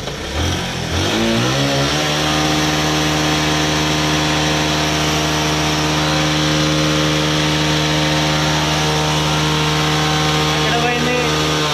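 A Honda Shine or Platina motorcycle with over 50,000 km and a smoke problem, treated with a carbon-cleaning injection, starts up and holds a loud, steady, buzzing rev close by, running continuously with voices talking over it.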